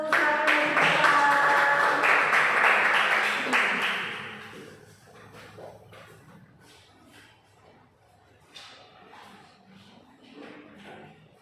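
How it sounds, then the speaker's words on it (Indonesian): A burst of group applause and clapping in a primary school class for a few seconds, then fading into quieter shuffling and room noise. "kita beri tepuk tangan untuk kelompok 1"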